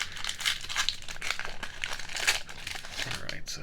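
Crinkling plastic wrap being torn and picked at on a Magic: The Gathering Outlaws of Thunder Junction bundle, a close, busy run of crackles and crunches that continues steadily, with light speech mixed in.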